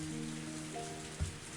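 Heavy rain pours down in the Higurashi visual novel, a steady, dense hiss of water on surfaces that runs throughout, with a single dull thump near the end.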